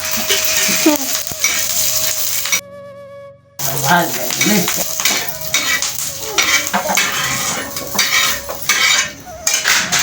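Onion frying in oil gets stirred quickly, with loud sizzling, metal utensil scrapes and pot clatter, broken by a brief pause of near silence partway through.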